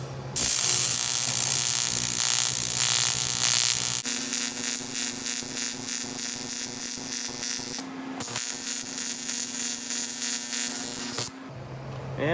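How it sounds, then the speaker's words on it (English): TIG welding on aluminum, a steady close electric buzz with a pulsing hiss that runs for about twelve seconds, with short breaks near the eighth and eleventh seconds. "especially TIG welding aluminum"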